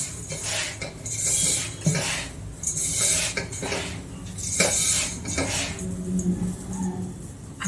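Flaxseed soaked in lemon juice stirred in a bowl, with a run of close clinks and scrapes of a spoon against the dish in irregular bursts, no talking.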